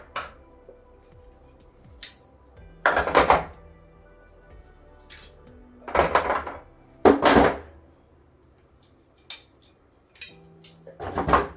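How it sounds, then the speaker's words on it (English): Weights being lifted off a bulky knitting machine, giving several separate clunks and metallic clatters in loose bursts with quiet gaps between them, close by and with no talking. "So I'll just take my weights off."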